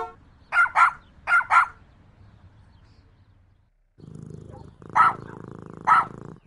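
A dog barks in two quick doubled bursts, falls quiet, then gives two more separate barks over a low background hum.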